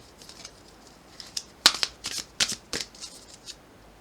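Tarot-style cards being shuffled for a card reading, a cluster of crisp riffling snaps and flutters in the middle, close and fairly loud over quiet room noise, no speech.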